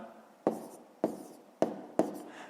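Pen or pencil writing numbers by hand on paper, four short, sharp strokes spaced roughly half a second apart, close and quiet, with no talking.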